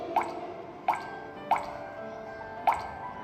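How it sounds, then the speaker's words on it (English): Water drops fall one at a time as a stage-play sound effect, four clear, hollow plinks spaced irregularly over a faint, quiet background, with no voices. "drops of water? Is it raining?"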